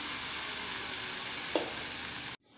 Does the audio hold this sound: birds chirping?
no